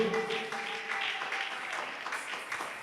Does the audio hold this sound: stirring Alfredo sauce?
no